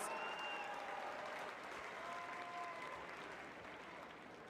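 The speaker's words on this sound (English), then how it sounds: "fans, please help us give one round of applause, nice and loud, for our top finishers on bars" Crowd applause at a Big 12 gymnastics championship honoring top finishers on bars, a faint, distant wash of clapping in a large arena that slowly tapers, with a few whistles or squeaks above it.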